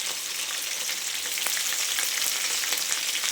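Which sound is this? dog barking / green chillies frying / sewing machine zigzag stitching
green chillies frying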